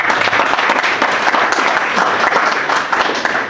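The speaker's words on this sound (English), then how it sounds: "So let's give the team a round of applause." An audience at a Simba AI launch event breaks into sustained, dense applause that holds steady and loud throughout.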